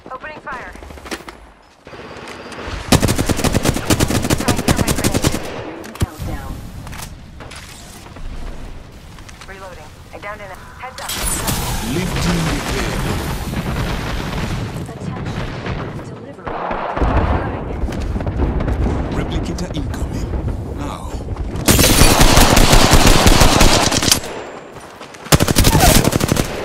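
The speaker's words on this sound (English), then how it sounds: "Opening fire." Heavy automatic gunfire in the battle royale game Apex Legends, loud sustained bursts of rapid shots with brief gaps, mixed with explosive blasts and in-game voice callouts throughout.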